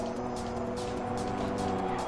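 Race car engines roaring close by in the game Ridge Racer 7: a loud, continuous high-revving drone with layered whining tones and occasional tire hiss, steady throughout without talk.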